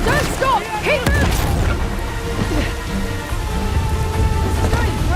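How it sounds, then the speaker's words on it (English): Heavy rain pours steadily in Uncharted: The Lost Legacy, a dense continuous wash of drops with occasional crashes and rumbles, while voices call out over the downpour. "Please stop pouring rain."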